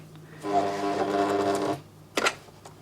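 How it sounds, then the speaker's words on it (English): A sewing machine runs slowly on a sun dress, stitching in one steady hum for over a second. It stops, then a brief click follows, likely the presser foot lifting. "Now I go really slow, lift the presser foot, a few more stitches, lift the presser foot"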